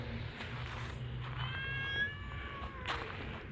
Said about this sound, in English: The cat wants me.